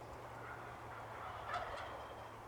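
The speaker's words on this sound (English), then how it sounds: "Here's a group of toms." Wild turkey toms on a homestead gobble faintly in the distance, a brief rattling burst midway, over a low steady outdoor hum.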